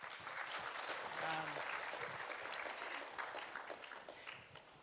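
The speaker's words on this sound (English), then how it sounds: "Everyone, let's give Minister another round of applause." A crowd at a youth event in a Papua New Guinea stadium applauds a government minister, a broad wash of clapping mixed with voices that tapers slightly toward the end.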